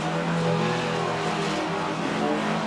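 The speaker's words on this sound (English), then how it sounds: "So 3 cars making a run for it down the front" Unlimited banger racing cars at Ringwood Raceway roar down the front straight, loud overlapping engine revs with a tire squeal rising briefly before the noise settles into a continuous racing drone.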